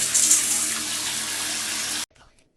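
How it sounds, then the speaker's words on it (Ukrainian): Water from a tap runs into a watering can as a steady, loud rushing gush for about two seconds, then cuts off abruptly, leaving faint trickles and quiet. "Береш лієчку, включаєш воду і побачите."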